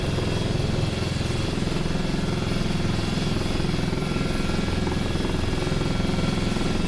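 A helicopter engine and rotor in the DCS 2.5 flight simulator drone steadily with a dense, continuous mechanical hum and rotor chop, loud and unbroken for several seconds while the RPM hunts, with no speech.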